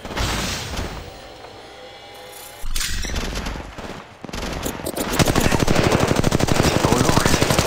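Gunfire in the video game Apex Legends: scattered shots and bursts at first, then rapid sustained automatic fire growing louder and denser toward the end, close and punchy.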